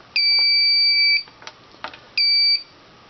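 Fire alarm control panel sounding its trouble signal: a steady electronic buzzer tone lasting about a second, a gap with faint clicks, then a second shorter buzz, loud and close with no talking.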